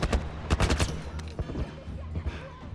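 Military turret in The Last of Us letting off a rapid, loud burst of automatic gunfire, close and booming, then fading into rumbling echoes.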